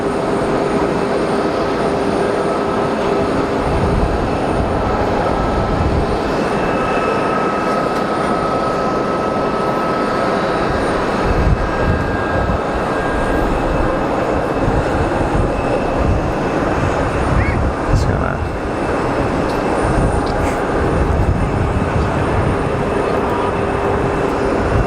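CRJ regional jet at Geneva Airport, a loud steady engine roar filling the whole stretch with broadband rumble and whine, heard from an airport terrace with no talk.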